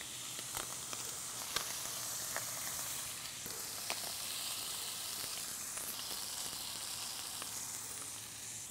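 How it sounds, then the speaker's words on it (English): Beech spinach wilting with a little salt in a frying pan on a small gas stove, a steady broadband sizzle and hiss throughout with a few faint ticks and pops, no voices. "I'm going to pop these in the same pan, just with a little bit of salt, and just wilt them down a bit"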